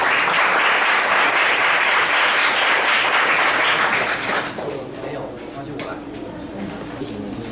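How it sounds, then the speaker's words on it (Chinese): Audience applause welcoming a speaker at a lecture event, loud dense clapping for about four seconds that then dies away into a quieter room with scattered claps. "让我们掌声欢迎"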